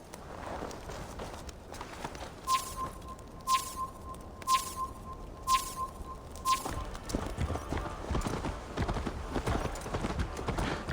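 Rhythmic hoof clip-clops of a horse galloping in Assassin's Creed Valhalla, with a steady high tone and bright chimes over a busy ambient backdrop.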